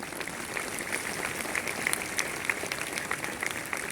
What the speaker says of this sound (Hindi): जब तक ताली नहीं बजेगी मैं आगे बढ़ूंगा